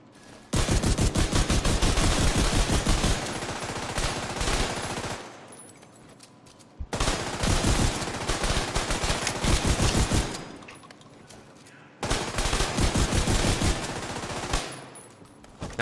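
An ACS 12 automatic shotgun in a video game fires in three long rapid bursts, each a few seconds of loud, dense, continuous blasts separated by short pauses, close and without talk.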